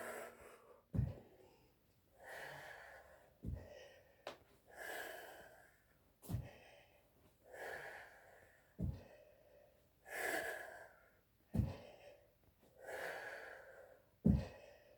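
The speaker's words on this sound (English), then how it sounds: "I am breathing." Heavy, rhythmic breathing during an abs workout: about a dozen loud, close, forceful exhales with sharper inhales between them, roughly one breath every second, and no talking.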